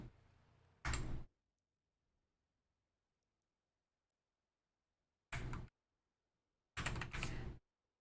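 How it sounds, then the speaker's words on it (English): An armored personnel carrier door in a video game sounds in three short, sharp mechanical bursts separated by silence, the last one longer and doubled. "APC door."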